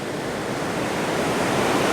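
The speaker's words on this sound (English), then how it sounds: "there's like a little cutout where the waves keep coming in and taking the sand out" Ocean surf washes over a sandy beach on the Spanish coast, a steady broadband roar of breaking waves with no distinct individual crashes, close and continuous, with no voices.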